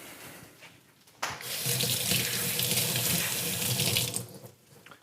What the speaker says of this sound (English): I like to rinse my cilantro.